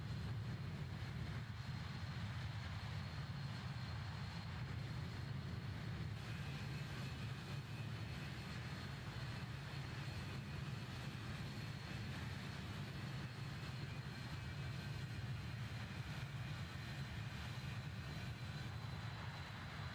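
A BAe 146 airliner's engines in Microsoft Flight Simulator 2020 keep up a steady, even drone with a broad roar and a faint high whine, continuous and unchanging throughout.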